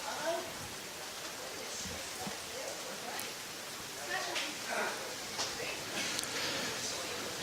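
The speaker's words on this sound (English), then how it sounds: "the fact that it's raining reasonably heavy" Heavy rain pours down on an outdoor lawn bowls green at the 2022 Golden Nugget, a steady broadband hiss with scattered drop patters throughout, with faint background voices.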